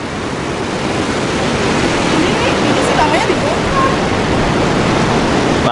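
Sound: high ocean waves at the beach in Sabang

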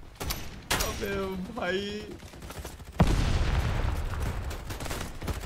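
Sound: gunfire in a video game battle on a bridge

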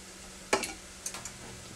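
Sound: onions and green pepper sautéing

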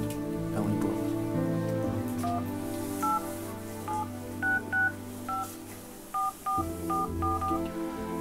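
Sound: phone number being dialed on a mobile phone

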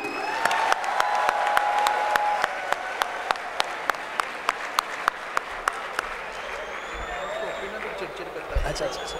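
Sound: audience applause at a poetry mushaira

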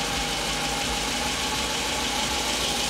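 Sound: Volvo Redblock 300hp engine running rough

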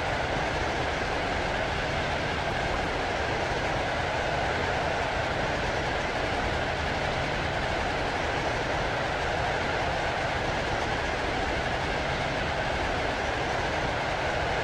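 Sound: train running on rails, video game

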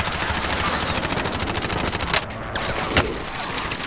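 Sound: gunfire in video game Call of Duty: Modern Warfare

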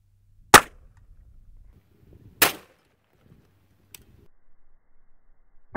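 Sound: gunshots from a 300 Blackout pistol

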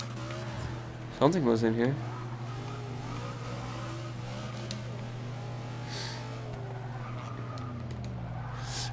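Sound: Chevrolet Camaro engine in video game Forza Motorsport 6

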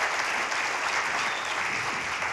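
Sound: audience applause at a lecture

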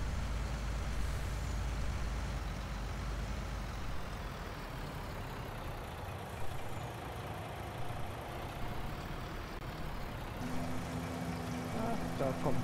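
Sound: truck driving in Landwirtschafts-Simulator 19 video game

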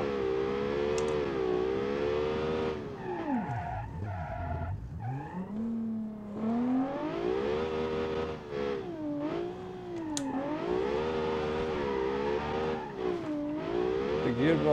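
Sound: car engine revving, from the video game Automation

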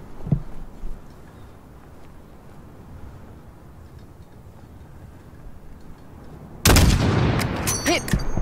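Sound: rifle shot in Modern Warfare 2019 video game

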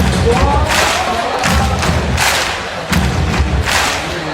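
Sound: applause

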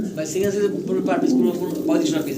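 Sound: fancy pigeons cooing

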